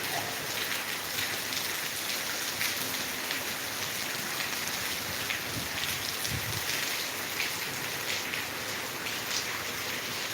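Heavy rain pours nonstop during a red alert around Latur, a dense even hiss on surfaces holding steady from start to finish, with no talk.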